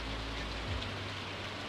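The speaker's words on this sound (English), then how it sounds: "Except the rain." Steady rain ambience from the farming video game Stardew Valley forms a soft, continuous hiss of falling drops with no voices.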